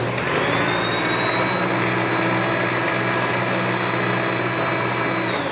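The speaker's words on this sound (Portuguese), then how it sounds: "E agora eu vou bater bem rapidinho, só pra misturar bem de leve" Electric stand mixer briefly beating pineapple cake batter, a loud steady motor whir with a high whine that runs unbroken throughout, with a few words spoken faintly over it.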